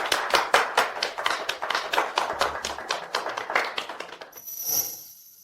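A small group of people claps in uneven, distinct claps for about four seconds before the applause dies away, followed by a faint high-pitched tone.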